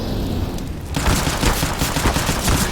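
Loud rapid automatic gunfire in CS:GO bursts in after a quieter moment, a dense close rattle of shots continuing to the end with no talking.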